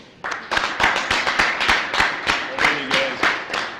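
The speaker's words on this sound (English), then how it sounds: "Let's celebrate our current seniors who received high honors last year with a round of applause." Scattered audience clapping at a high school honors ceremony, a few hands clapping in a steady, fairly sparse rhythm for several seconds with faint voices underneath.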